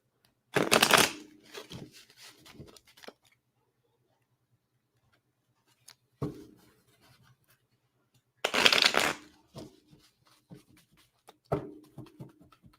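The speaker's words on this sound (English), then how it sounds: "I'm going to shuffle those cards" Tarot cards are shuffled in several quick riffling bursts, close and crisp, separated by quiet gaps with faint handling noises.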